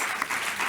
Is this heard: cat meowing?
no